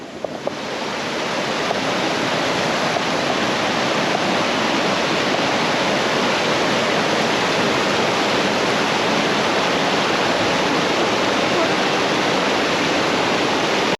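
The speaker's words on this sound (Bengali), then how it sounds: "একটা ঝর্ণার পাশে দাঁড়িয়েছি আমরা সবাই" Steady, loud roar of a mountain waterfall near Pahalgam, Kashmir, heard up close as dense continuous rushing water with no voices.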